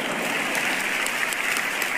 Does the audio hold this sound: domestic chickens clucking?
no